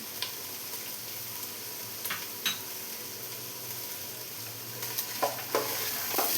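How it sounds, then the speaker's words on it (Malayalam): Carrots and green peas sauté in oil for a vegetable pulao, a soft, steady sizzle with a few scattered spoon clicks and stirring taps, and no voices. "ഇപ്പം എല്ലാം കൂടെ ഒരു ത്രീ മിനിറ്റ്സ് ഒന്ന് ഓയിലിൽ വഴറ്റിയെടുത്തിട്ടുണ്ട്"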